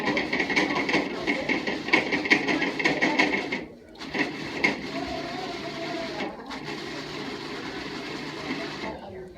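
A food processor pulses a thick mixture, giving a loud, close mechanical whir in bursts with a short break partway through and a steady grinding run afterward.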